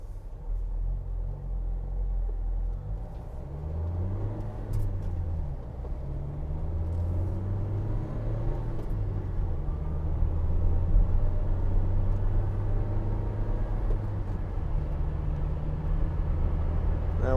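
Interior drone of a 2016 Vauxhall Vivaro 1.6 CDTi ecoFLEX diesel van on the move, a low steady engine rumble with rising and falling tones as it revs through the gears, road noise underneath, no talking.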